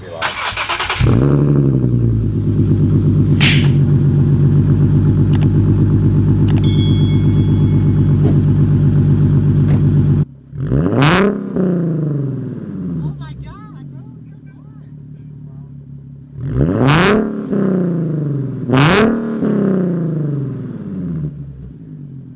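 A Nissan 370Z Nismo engine with an aftermarket Tomei Ti Expreme exhaust cranks and roars to life with a loud, deep exhaust rumble, idling heavily, then gets revved in sharp bursts while a person speaks briefly.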